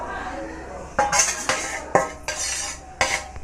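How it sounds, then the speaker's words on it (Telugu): A spoon scrapes and clinks against a pan as fried bitter gourd pieces are stirred into curry, several clattering strokes close by over a soft background hum. "మనం ముందుగుండా వేయించి పెట్టుకున్న కాకరకాయ ముక్కలను ఇందులో వేసి చక్కగా కలిపి"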